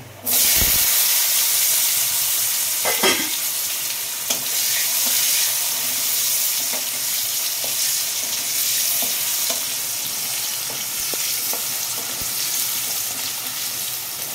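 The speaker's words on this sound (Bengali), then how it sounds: "দিয়ে আলুগুলোকে ফ্রাই করে নেব।" Potatoes sizzle steadily in hot oil with whole cumin, cloves, cinnamon and green cardamom, a dense continuous frying hiss with occasional stirring clinks, close and loud with no talk.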